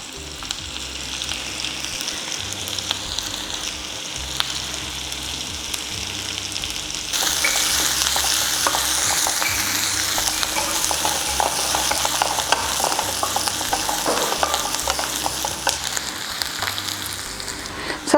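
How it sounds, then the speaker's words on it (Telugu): Onions sizzle in hot oil in a pan for home-style mutton biryani, a continuous close crackling fry that grows louder and busier partway through, with no talk. "ఇవి కూడా చక్కగా వేగాలి."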